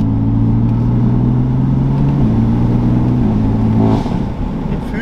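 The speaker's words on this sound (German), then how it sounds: "das ist mein Motor." A BMW M3 F80 with a turbocharged straight-six, a US re-import past 190,000 km, holding a loud, close steady engine drone that steps up in pitch in stages before easing off, with no talk over it.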